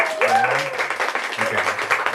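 Audience applause fills a bookstore event, steady clapping from a crowd heard under a voice talking over it, with some whoops rising above.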